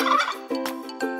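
A turkey gobbles in a quick, rattling burst of warbling calls, close and clear, with no other sounds around.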